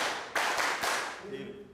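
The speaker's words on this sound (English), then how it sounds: "The clapping seals the deal." Hands clap sharply a few times to seal a vanilla price deal between traders, close and crisp, with voices murmuring in the background.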